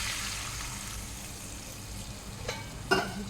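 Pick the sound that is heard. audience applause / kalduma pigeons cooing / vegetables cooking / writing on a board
vegetables cooking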